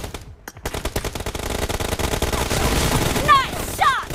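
Rapid automatic gunfire in the battle royale game PUBG Mobile, a dense run of close, loud shots with a brief gap early on, followed by a couple of sharp ricochet-like chirps near the end.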